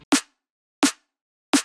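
Three punchy processed snare hits spaced evenly about 0.7 seconds apart, shaped with EQ, a transient shaper and a clipper, each a sharp bright crack with a short tail, standing alone in silence.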